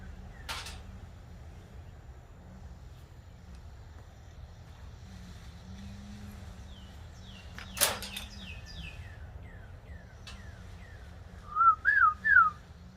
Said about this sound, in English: Do you hear the birds? We got a lot of birds.